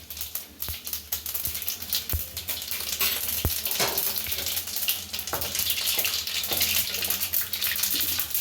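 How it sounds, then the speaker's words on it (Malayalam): Mustard seeds and green chillies frying in hot oil for a rose apple pickle, a busy continuous crackling sizzle with scattered pops and a few sharp knocks of a utensil against the pan, close and fairly loud. "എണ്ണ നല്ലവണ്ണം തിളച്ച് കഴിഞ്ഞ് നമുക്കതിലേക്ക് കടുകിട്ട് കൊടുക്കാം. ടീസ്പൂൺ കടുകിട്ട് കൊടുക്കുക."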